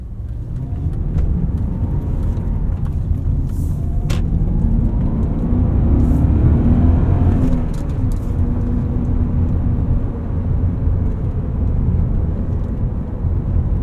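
A 2000 BMW M5 E39 pulls away and accelerates, its engine a loud, steady low rumble rising in pitch through the run, heard from inside the car with no voices.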